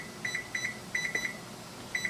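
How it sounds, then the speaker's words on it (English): A kitchen timer beeps in short paired chirps, repeating in quick clusters with brief pauses, fairly close over a quiet room hum during stovetop cooking. "So maybe I'll start my timer here."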